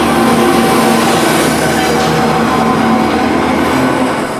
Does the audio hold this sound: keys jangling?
no